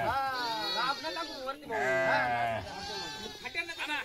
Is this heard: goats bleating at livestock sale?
yes